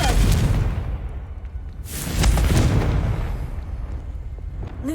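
Confringo spell explosions in the Hogwarts Legacy video game, two deep booming blasts with rumbling tails, the second about two seconds after the first, loud and close with no talk.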